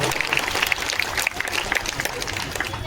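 A crowd at a political rally claps in a steady patter of applause, dense and continuous throughout, with crowd noise mixed in.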